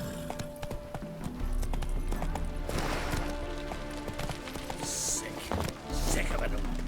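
The horse Roach gallops through The Witcher 3: Wild Hunt, hooves clopping in a fast, continuous rhythm close by, layered with game ambience, a brief bright chime, and a voice speaking over it.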